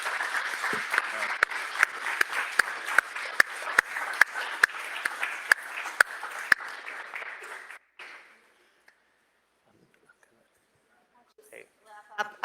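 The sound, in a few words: audience applauding panel members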